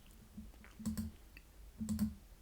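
Two quick pairs of computer mouse clicks on search options, crisp and close in a quiet room, with no talking.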